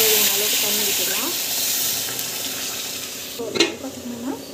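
Water poured into a hot pan of upma mixture gives a loud burst of hissing sizzle that settles as it is stirred, with someone speaking in places.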